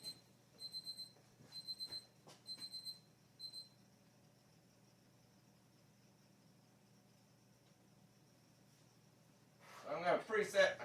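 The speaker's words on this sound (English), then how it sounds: "We're already getting our timer going off here for just the preheat." A timer sounds off for a preheat, giving four quick bursts of bright electronic beeping in a steady rhythm before falling silent, with a rustling handling noise near the end.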